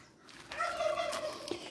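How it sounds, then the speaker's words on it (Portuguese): A neighbour's turkeys gobble outdoors, a burst of warbling calls that starts about a third of the way in and carries on at moderate distance, with no one talking. "os perus do vizinho estão tão felizes hoje"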